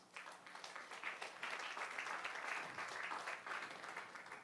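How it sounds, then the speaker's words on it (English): Audience applause at a data session during a Local2030 HLPF special event, steady moderate clapping from a room of people that holds fairly even for several seconds, somewhat subdued, with no one talking over it. "That was a really tepid after lunch clap."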